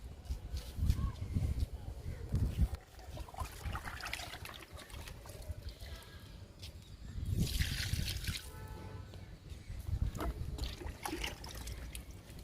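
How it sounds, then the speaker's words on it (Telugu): Homemade kitchen-waste liquid fertilizer trickles and splashes from a container onto potted plants on a terrace, in a few uneven pouring bursts, fairly quiet. "ఇప్పుడు ఈ రెండిటికి కిచెన్ వేస్ట్ లిక్విడ్ ఇద్దాము."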